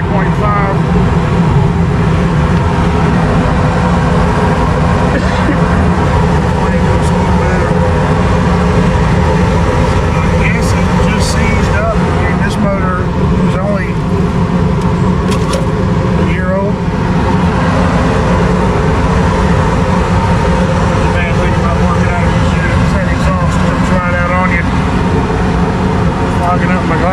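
A Goodman gas furnace blower motor, recently repaired, runs with a loud, continuous droning hum and steady whir that holds unchanged throughout, with muffled voices faintly underneath.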